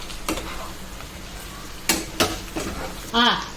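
Chicken fry being stirred in a hot pan with garam masala, coriander powder and chilli powder, a few scraping stirs and light sizzling under brief murmured talk.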